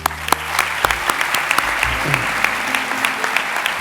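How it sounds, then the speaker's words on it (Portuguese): An audience at a Hippocratic Oath ceremony for doctors in Braga breaks into dense, sustained applause, many hands clapping loudly and continuously throughout, with sharp individual claps standing out. "Para vós, peço uma salva de palmas."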